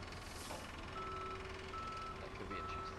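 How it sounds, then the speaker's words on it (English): A tow truck in a police simulation game sounds a steady reversing beep, a thin repeating tone sitting over a dense, constant background wash. "your tow truck's here with the red car on the back"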